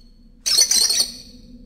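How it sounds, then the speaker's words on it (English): A bird squawks once in the video game Virginia, a sudden loud, harsh call lasting about half a second that tails off quickly against a quiet low hum. "I don't know what type of bird that is."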